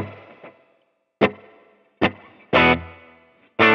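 Electric guitar through a Fractal Blues Jr amp model with medium spring reverb and a subtle mono bucket-brigade delay, played as a few separate strummed chords with ringing tails, moderately loud and alone.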